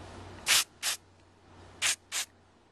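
Four short hissing sprays of lubricant into a 3x3 puzzle cube, in two quick pairs, close and crisp, separated by a brief pause.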